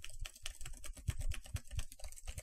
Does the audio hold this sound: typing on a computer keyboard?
yes